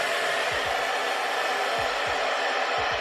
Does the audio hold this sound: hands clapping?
no